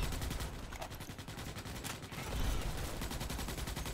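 Dense, continuous automatic gunfire from a Starship Troopers: Extermination battle, several weapons firing at once in a loud, unbroken barrage with no talking.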